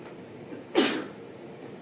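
A single sharp sneeze bursts out midway against a quiet room background, brief and fairly close.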